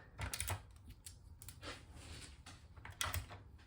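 Clear tape pulled from a dispenser that perforates it automatically with a turn, taping down a 12-inch round hardboard sign; a few quiet, close mechanical clicks and rasping pulls recur across the moment, with no talking.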